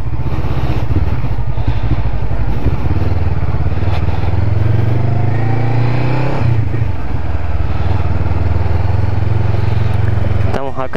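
A Honda CB500F motorcycle engine drones loudly and steadily as it rides, with pitch rising and falling through gear changes, up close.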